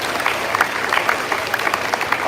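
Concert audience at a 7th grade band Halloween concert clapping for band teacher Mr. Hale, a moderate, somewhat distant patter of many hands, steady and unbroken over a couple of seconds.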